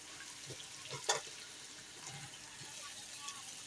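Potatoes go into chicken frying in ghee for aloo chicken: a soft steady sizzle with a sharp splash and crackle as they drop in, then faint stirring and scraping, fairly quiet.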